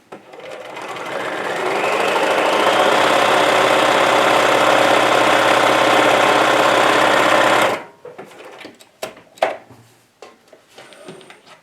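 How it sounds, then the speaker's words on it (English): Sewing machine running rows of stitches on a small fabric wallet, its motor ramping up into a steady close whirring drone for several seconds before cutting off, followed by scattered handling clicks and rustles. "I'm going to run 2 rows of stitches instead of just 1"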